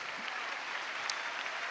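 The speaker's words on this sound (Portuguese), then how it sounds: "Continue aplaudindo mais um pouco." A church congregation keeps applauding during a worship service, a short, even stretch of many hands clapping, somewhat distant and moderately quiet.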